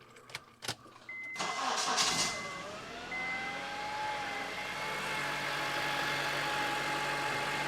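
A high-mileage car with 270,000 miles cranks briefly and catches, then settles into a smooth, steady idle close by, with a faint whine riding over the low hum.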